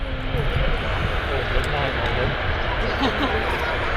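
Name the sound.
Jet2 Boeing 737 airliner at Manchester Airport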